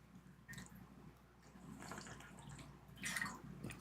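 Water runs and splashes into a container to mix a G Fuel drink, a soft trickle that swells into a louder pour near the end, faint against low room hum with no talking.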